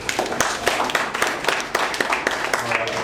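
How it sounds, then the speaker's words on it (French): A church congregation applauds and cheers during a Sunday service, a dense, loud wash of overlapping claps with voices mixed in throughout. "Acclamation pour ma Pambou,"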